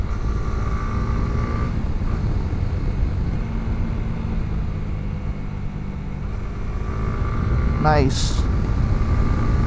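A Honda CB150X motorcycle engine drones low and steady during a mountain ride, mixed with wind rush and road noise, while a voice speaks briefly over it.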